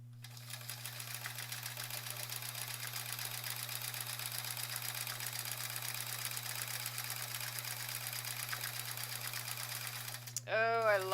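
Sewing machine doing free motion quilting on sampler blocks: a steady, continuous motor drone with a low hum and fast needle chatter runs for about ten seconds, then a brief voice near the end.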